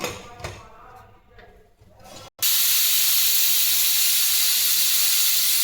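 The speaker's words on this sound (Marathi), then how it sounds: "झाकण लावून 2 शिट्ट्या परत घ्या." After a moment of quieter background noise, a loud, sustained hiss of steam bursts out abruptly from a pressure cooker whistle as jackfruit biryani cooks, continuing steadily like a pressure cooker venting.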